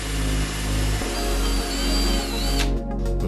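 Power drill driving screws into a plywood case for a DIY modular synthesizer, a steady loud whirring motor with slight pitch shifts, close and continuous, with a brief pause near the end.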